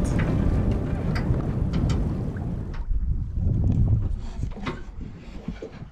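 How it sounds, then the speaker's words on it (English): Wind gusts across the microphone while sailing a boat off Yucatan, a loud low rumbling buffet that eases and returns, with water and hull noise beneath. "Here comes the wind a little bit."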